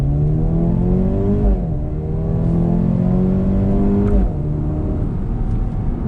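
A Mercedes-Benz A35 AMG engine revs hard under acceleration, its rising drone breaking at two gear shifts before climbing again, loud and close with no talking.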